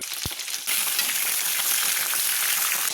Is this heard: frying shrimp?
yes